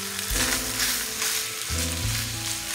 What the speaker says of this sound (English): we're going to go ahead and add our Sloppy Joe sauce. And we're going to go ahead and let that cook up